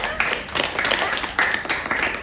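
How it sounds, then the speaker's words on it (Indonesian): A small group of students in a classroom guidance session claps together for a couple of seconds in uneven bursts, with a voice speaking faintly underneath. "ya tepuk tangan dulu untuk kita semua."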